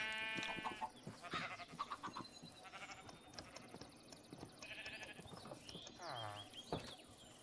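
Several short, wavering sheep bleats from the Minecraft video game sound in quick succession, some overlapping, clear and close over a low background.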